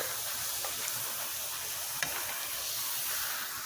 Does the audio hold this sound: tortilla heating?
yes